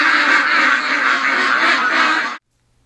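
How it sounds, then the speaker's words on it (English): Ducks quack loudly and continuously in a close, dense chorus for about two seconds before cutting off abruptly into silence. "Good morning, ducks!"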